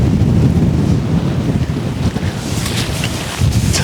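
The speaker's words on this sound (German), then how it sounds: "Nice fucking wind, man." Strong wind roars steadily across a 26-foot sailboat out on open water, with buffeting gusts hitting the microphone and faint wave wash underneath, loud and continuous throughout.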